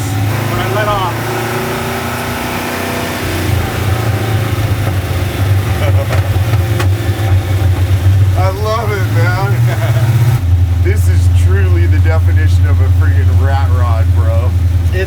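Engine of a 1948 International KB5 dump truck idling in first gear, then revving in a few rough, drumming surges that drop back, close and loud, with someone talking over it.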